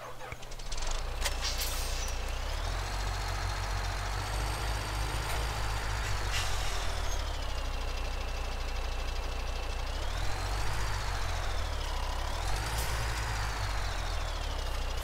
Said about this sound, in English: You have to now drive with the truck past it.